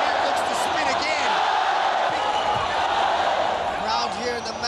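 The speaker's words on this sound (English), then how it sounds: "Crowd here in the Madison Square Stadium loving this co-main event" Crowd roaring steadily at a ONE Friday Fights Muay Thai event in a stadium, a dense, loud wash of cheers under an announcer's commentary.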